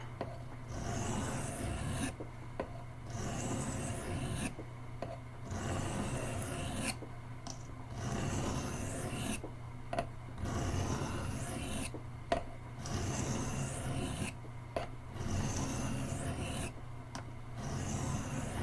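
A Camillus electrician's knife blade is drawn across a sharpening surface in steady, rasping strokes with brief regular pauses between passes, close and continuous over a low background hum.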